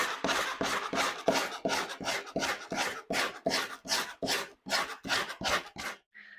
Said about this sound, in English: Now I'll let that set up and I'll sand this all down.